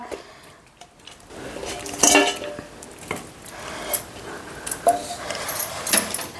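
Pot of gongura fish curry shaken by hand instead of stirred, giving irregular metallic knocks and clinks of the pot against the stove, moderately close and without talk.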